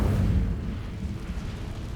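An Incendio fire spell is cast in Hogwarts Legacy, producing a deep burst of flame that swells and then fades into a rumbling whoosh over two seconds.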